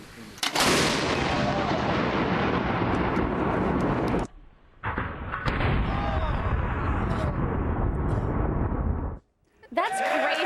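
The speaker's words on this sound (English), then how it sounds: "so now we've got our 40mm Bofor, aimed at our mannequin" A 40mm Bofors anti-aircraft gun fires at a mannequin dressed in gear, making long, loud, roaring blasts that are cut by a brief gap. The sound then drops out near the end.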